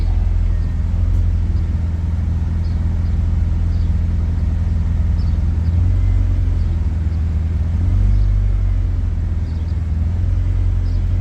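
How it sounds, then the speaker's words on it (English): A Honda car engine idling at close range, a steady low rumble with a slight rise in revs from a throttle blip, no voices. "RPM still increased with the blip of the throttle."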